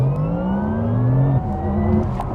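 Porsche Taycan 4S Cross Turismo electric wagon accelerating hard, its rising synthetic motor whine climbing steadily in pitch, dipping briefly, then climbing again over road and tire noise, heard from inside the cabin.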